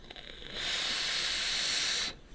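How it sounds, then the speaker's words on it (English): A long, steady breathy hiss of vape smoke being exhaled from a mouth runs for about a second and a half, close and fairly soft, then cuts off. No one speaks. "Cats are chasing the vape from my mouth."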